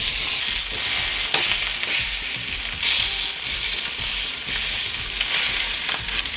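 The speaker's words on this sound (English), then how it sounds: "down we go with our pork chops" Pork chops sizzling in a hot oiled ridged pan, a loud, dense, continuous hiss close up with a few light shifts and scrapes, no one talking.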